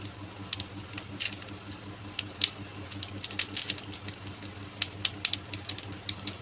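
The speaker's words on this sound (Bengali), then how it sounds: "শুকনো লঙ্কা, তেজপাতা, গোটা জিরে ফোড়ন দিলাম।" Dried chillies, bay leaf and whole cumin seeds temper in hot oil for vegetarian khichuri, giving a soft, scattered crackle of small pops and spits over a low steady hum.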